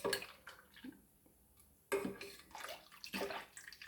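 Water poured in separate splashing bursts into a rice batter for neer dosa, close and fairly quiet with short pauses between pours.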